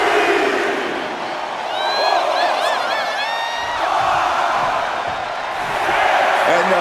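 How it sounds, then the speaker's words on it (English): A video game arena crowd roars steadily throughout a WWE 2K25 wrestling match, with whoops and a few swelling cheers rising over the constant din. "And the Fiend is channeling the energy of this crowd."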